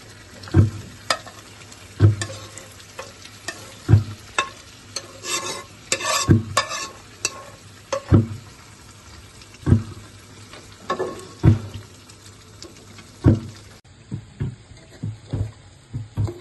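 Fried goat mutton pieces are added to a pot of wedding-style curry and stirred, with regular spoon scrapes and clanks every couple of seconds over a steady sizzle, close and fairly loud, with no talking.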